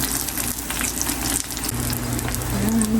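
Daing, a dried fish, fries in a home pan with a steady, loud, close sizzle that crackles and spits throughout and carries no talk.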